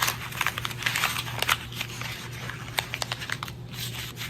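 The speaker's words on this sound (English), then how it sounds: "you're gonna take this piece of paper and you're gonna crumple it up" A piece of white paper is crumpled by hand, producing close, irregular crackling and crinkling bursts over a low steady background hum.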